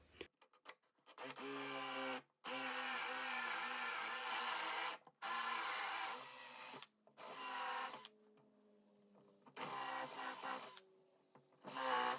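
A power drill whines in several long bursts while boring holes, spinning up and cutting out between runs, with brief quiet pauses and a lower grinding tone in one stretch.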